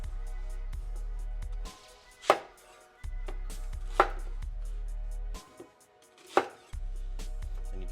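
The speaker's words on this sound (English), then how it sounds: "Same thing with our onions. We'll do 4 quarters." Knife cutting onions into quarters on a cutting board, three sharp, close chops spaced a couple of seconds apart over a quiet background with a steady low hum.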